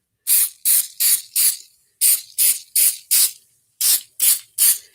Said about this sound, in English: So we're going to spray this again.